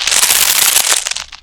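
A loud, dense crunchy foley texture crackles and snaps continuously, bright and close, with the background noise cleaned away by a reverb remover, fading out at the end.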